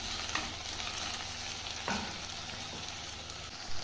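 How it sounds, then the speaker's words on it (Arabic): Diced onion, potato and pepper frying in a pan, a continuous crackling sizzle with a couple of spoon scrapes as the mixture is stirred, no voices. "وبعدين هنجيب حبة فلفل ونضيفها للبصل والبطاطس ونقلب كويس"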